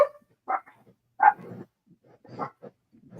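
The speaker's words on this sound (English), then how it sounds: "Oh my gosh, my dog." A pet dog barks and yips several times indoors, close and clear, in short separate bursts with quiet gaps between them and no talking over it.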